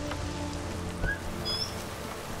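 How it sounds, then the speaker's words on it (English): Steady rain falls in the fantasy video game The Witcher 3, an even hiss of drops on surfaces with a couple of faint bird-like chirps, continuous throughout and moderately loud. "Oh, nope, still raining."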